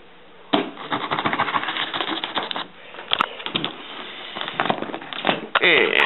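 A blade cuts open a cardboard box for an unboxing of a Versa CAI and throttle controller, with close, crackly scraping and snapping bursts in uneven spurts; someone talks over parts of it.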